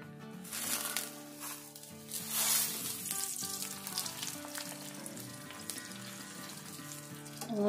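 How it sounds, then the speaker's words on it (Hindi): A paratha sizzles steadily in oil on a hot tawa griddle, giving a continuous close crackling fry with faint tonal hum beneath and a brief surge of sizzle partway through. "पहले मैंने तवे पे ऑयल डाला है, फिर ये पराठा डाल रही हूं मैं।"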